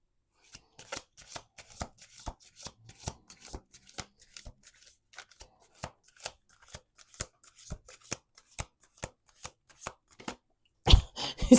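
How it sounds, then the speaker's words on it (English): Close, crisp card shuffling from a single deck: a steady series of sharp clicks and flicks as cards are handled, then a dense final riffle at the end, with no voices. "Okay, 1 more shuffle."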